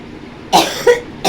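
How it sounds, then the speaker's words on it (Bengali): A person coughs three times in quick succession, the coughs loud, close and dry, with brief quiet gaps between them and no talk. "যাও কাশি ফাসি সব কমে যাবে"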